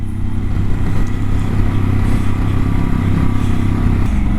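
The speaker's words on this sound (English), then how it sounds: "The new bike, the Pan America." A Harley-Davidson Pan America motorcycle engine runs steadily and loud throughout, with a deep low rumble that holds an even idle-like drone before a slight shift near the end, no voices over it.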